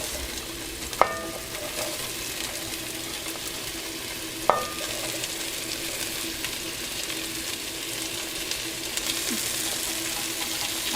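Celery, onion and carrots for a beef stew sizzle in a hot pot with a steady, hissing fry, while two sharp clinks of a utensil against the pot stand out above it, and no one talks.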